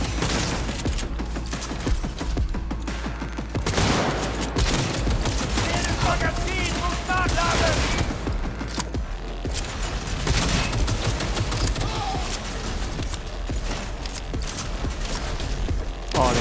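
Rapid bursts of gunfire in Cyberpunk 2077, loud and continuous, with booms and mechanical clatter mixed in.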